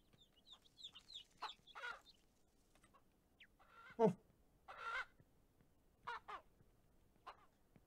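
Chickens clucking in the Ranch Simulator farming game, a few short separate clucks and squawks spaced across several seconds at moderate distance, with no talk over them.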